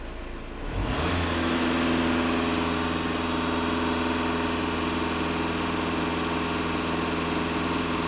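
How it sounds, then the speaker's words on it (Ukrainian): A VW Passat with about 500,000 km of mileage and a disconnected pipe, engine rising from idle to a steady high-rpm drone as the gas pedal is floored and held, close and continuous. "Зараз я продемонструю, нажму на газ в пол."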